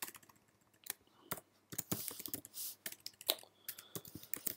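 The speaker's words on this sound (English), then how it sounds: "Typing is shocking today." Rapid, irregular clacking of keys on a computer keyboard, close up, with bursts of quick keystrokes and brief pauses.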